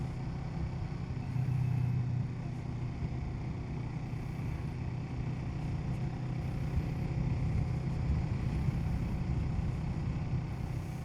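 Motorcycle test ride recorded through a Shark D-Skwal 3 helmet setup, giving a steady engine drone mixed with heavy wind rush that stays constant and fairly loud throughout, with no talking.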